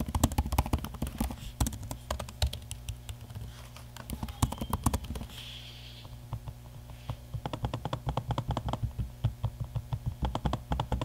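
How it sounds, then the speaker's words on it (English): Rapid, uneven clicking of keys on a Razer Blade Stealth 13 laptop keyboard, close and clear, with a brief pause in the middle where the trackpad is used before the typing resumes. No one speaks. "here's a quick audio sample of me using the keyboard and trackpad so you can hear how it sounds."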